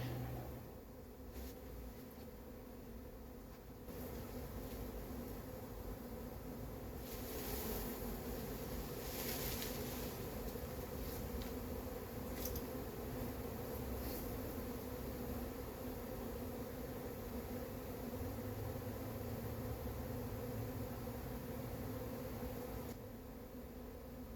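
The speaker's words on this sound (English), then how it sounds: "I do see some of the ones that are flying around just going back to the branch there" A honey bee swarm hums in a dense, steady outdoor drone that holds for the full length, with occasional closer buzzes of individual bees flying past.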